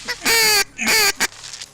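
Loud honking waterfowl calls during a duck hunt in Idaho, two long close calls followed by a brief third, out in the open marsh.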